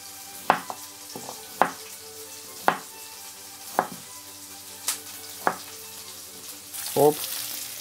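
Beef and bell peppers frying in a hot pan, a steady sizzle broken by about eight sharp stirring clatters of a utensil against the pan, close up, ending in a louder burst of sizzle.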